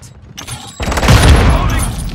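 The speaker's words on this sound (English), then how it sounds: "Throwing a stun grenade! Samtex out!" Stun grenade and Semtex explosions in Modern Warfare II on the Embassy map, Kill Confirmed mode: a quiet lead-in, then a sudden loud burst that swells into a sustained rumbling blast, close and dominant.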